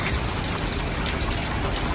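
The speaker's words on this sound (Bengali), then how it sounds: "বৃষ্টি দেখো জাপানের বৃষ্টি" Steady rain falling in Japan, a dense hiss of drops on surfaces, fairly close and uninterrupted.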